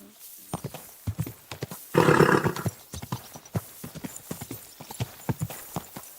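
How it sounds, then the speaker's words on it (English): Rhythmic clip-clop of horse hooves at a steady trot in Kingdom Come: Deliverance 2, interrupted early by a loud whinny, then the hoofbeats continue close and clear. "Easy, good horse."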